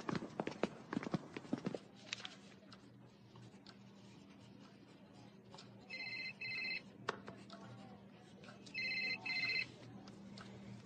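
Two short bursts of a telephone bell ringing indoors, fairly near, rising over faint room noise after some earlier clattering footsteps, with a pause between the rings.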